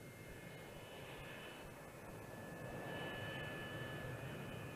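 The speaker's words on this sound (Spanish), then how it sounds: "Este es el YB-49 de 8 motores en bloque." Northrop YB-49 eight-engine flying wing jet aircraft, a steady broadband roar with a whining tone on top, swelling slightly louder toward the end, heard alone without voices.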